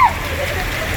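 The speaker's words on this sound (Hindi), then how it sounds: "देखें तेज़ बारिश, बहुत प्यारा मौसम" Heavy rain falling at a hillside hotel restaurant area in Swat, a dense steady hiss with a brief voice at the very start, continuous and fairly loud throughout.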